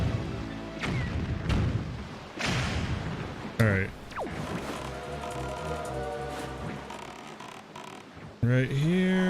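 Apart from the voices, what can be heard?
cannon fire in video game The Wind Waker HD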